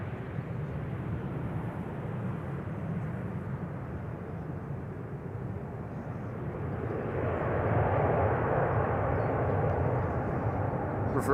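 A landing airliner at Schiphol Airport roars at a distance, its thrust reversers swelling the rumble louder partway through before it holds steady, with no one speaking.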